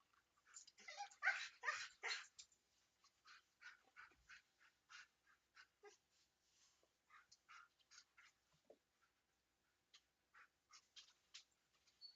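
Dogs in a video game bark and yelp in quick bursts, a flurry of sharp yips early on, then scattered short barks and whimpers, faint and thin.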